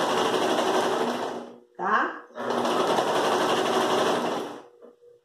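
A sewing machine stitches a denim rug in two long steady runs, loud and close, separated by a short pause in which someone speaks briefly.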